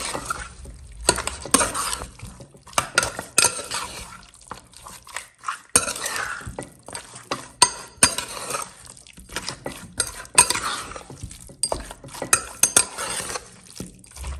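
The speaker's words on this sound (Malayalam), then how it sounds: "അങ്ങനെ നമ്മൾ നന്നായി ഇളക്കി കൊടുത്തു." Beef being stirred and coated with masala and salt in a pot for a Kerala-style beef roast, a busy stream of close wet scrapes, knocks and clinks of spoon on metal in irregular bursts, with no speech.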